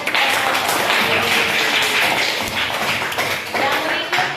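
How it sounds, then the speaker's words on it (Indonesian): Classroom applause for a student group that has just finished presenting, a dense, steady patter of many hands clapping together at moderate loudness for several seconds. "Mari kita berikan tepuk tangan."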